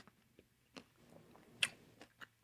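Crunchy ice cream cone shell bitten and chewed, with a few soft separate crunches and one sharper bite in the middle, close up in a quiet room.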